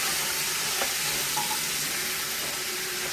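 Pork belly for chop suey fries steadily in a pan, a dense, continuous close-up sizzle and crackle with no talking over it.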